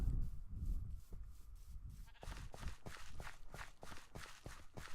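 Sheep in the video game Minecraft bleating in quick repeated calls over a soft bed of game noise and footstep-like sounds, faint and moderately close.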